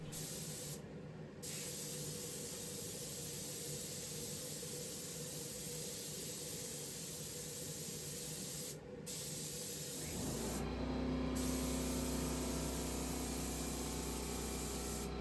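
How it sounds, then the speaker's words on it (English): Spray paint being applied to furniture, a steady, close hiss of spraying that runs almost continuously with a few brief pauses and deepens into a heavier rushing tone near the end. "I pretty much just spray the paint on."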